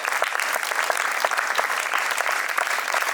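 Audience at a school guest-welcoming event claps steadily, a dense, even burst of many hands filling the room without pause.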